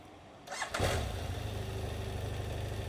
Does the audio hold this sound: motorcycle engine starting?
yes